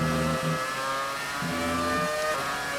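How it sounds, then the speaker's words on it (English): A V10 Formula 1 car in the F1 2018 racing game, heard as a continuous high-pitched engine whine that holds steady and shifts pitch as it closes in, with no talk over it. "I can hear that V10 behind us. He's closing in."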